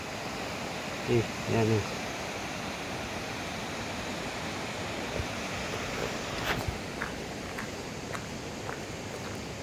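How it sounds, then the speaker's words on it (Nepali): A small stream flows in a continuous, even rush of water, with a person speaking briefly near the start and a few faint knocks later. "हेर्नुहोस् है, खोलाइ सानो सानो खोला।"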